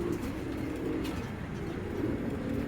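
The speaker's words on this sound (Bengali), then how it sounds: "অনেক বড় সাইজের কবুতর।" Large racing pigeons coo steadily at close range, a low continuous throaty murmur from several birds with no voices over it.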